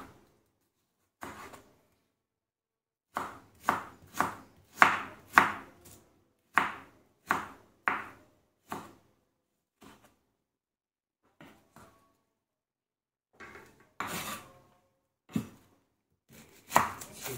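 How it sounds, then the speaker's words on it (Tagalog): Onion is sliced on a board with a knife in a home kitchen, making sharp separate chops, some in quick runs and others spaced apart with quiet gaps between. "Hiwain lang natin."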